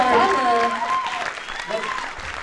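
An audience at a fursuit dance competition during a furry convention applauds loudly, while a voice speaks over the clapping.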